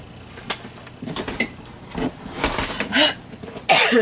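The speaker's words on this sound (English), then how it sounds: "Excuse my coughing." A person coughing repeatedly indoors, a series of separate close coughs and throat-clearing bursts spaced irregularly, growing stronger toward the end with a final harsh cough.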